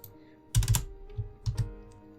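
Bursts of rapid key clatter on a computer keyboard, close and fairly loud, coming in two short flurries separated by a brief pause, with no talk over them.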